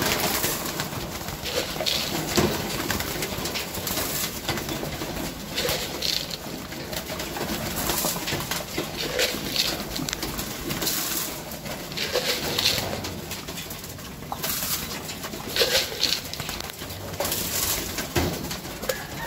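Racing pigeons in a loft cooing repeatedly, soft low throaty calls overlapping from several birds at close range, with occasional rustling and no speech.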